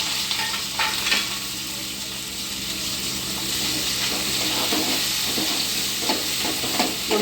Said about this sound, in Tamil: வெங்காயம் சேர்த்து வதக்கிக்கலாம்.